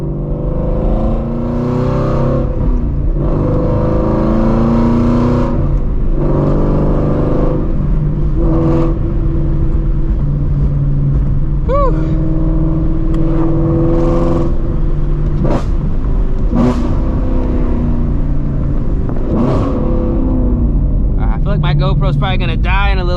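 A Ford Shelby GT350 driven through town traffic gives off a loud, close engine drone that swells and falls through repeated revs and gear changes for the whole stretch.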